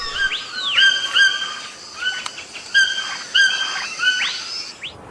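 A toucan in the rainforest gives a string of chirping, whistled calls in short irregular bursts, fairly close over a faint hiss of background insects, with no talking.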